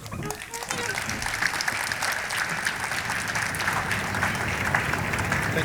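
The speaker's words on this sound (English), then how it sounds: "Let's give him a warm applause." Warm applause from a climate summit audience in Iceland welcoming a speaker to the stage, steady dense clapping from a large room that continues evenly throughout.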